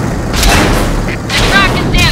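Tank cannon fire in an online tank battle video game, a sharp boom with rumbling aftermath and mechanical clatter, loud and close, overlapping with voices and game radio chatter.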